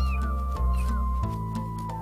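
Three-week-old kitten meowing in short, repeated high cries, close and clear, with no talk over them.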